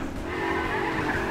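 Car wheels spin and skid in Garry's Mod, a loud continuous tire squeal and engine roar throughout a short burst, with no talk.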